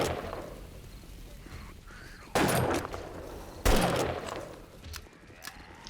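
Gunfire from the zombie survival game 7 Days to Die, aimed at a zombie horde: two loud, sharp shots a second or so apart stand out over a low rumbling background, with a few fainter pops trailing after.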